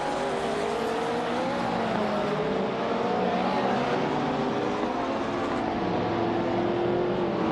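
Vintage race cars, Lola T290s and McLaren M1Bs, roar around a tight-cornered circuit, a steady layered engine drone with shifting pitches as several cars run close together, continuous and loud with no voices.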